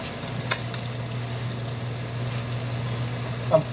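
Sausage and hash browns frying in a pan, a steady soft sizzle with a low hum underneath and a couple of brief clinks from stirring or utensils.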